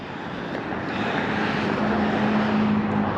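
A 1969 Ford Mustang Fastback idles steadily close by, its engine giving a continuous broadband rumble that rises a little in loudness and holds, with a faint tonal hum near the end and no one talking.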